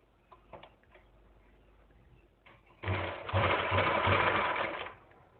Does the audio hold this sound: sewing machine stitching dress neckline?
yes